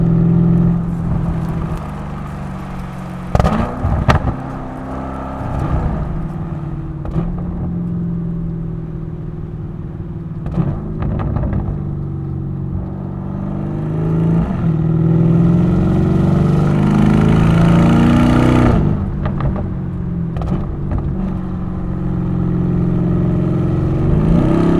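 Lamborghini Urus S engine on a quiet back road, a steady deep rumble with swelling revs as the SUV accelerates and shifts, loud and close throughout the cabin.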